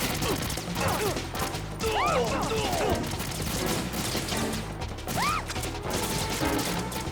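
Gunfire in Metal Gear Solid 2 aimed at a woman: loud overlapping shots and crashes, close and sustained, with rising whistling sweeps and game voices mixed in.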